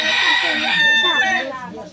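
A rooster crows loudly and close by in a stolen-chicken comedy skit, one long crow that fades toward the end over faint background voices.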